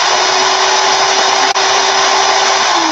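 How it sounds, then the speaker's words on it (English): A power drill runs steadily in reverse during an event setup build, a loud continuous whir with a faint break near the middle and the pitch dropping slightly at the end. "Put the drill in reverse,"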